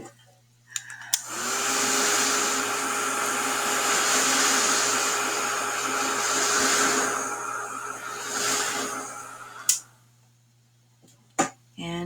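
A hair dryer blows on wet paint on a snow bells painting, a loud steady whine running about nine seconds, switched on and off with faint clicks and brief knocks before and after.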